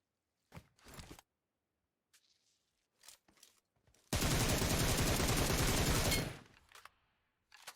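Gunfire in the mobile game PUBG Mobile: a few isolated shots and short bursts, then a sustained loud automatic volley lasting about two seconds, with quiet gaps and faint footsteps between.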